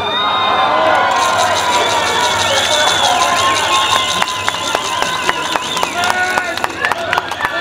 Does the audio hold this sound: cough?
no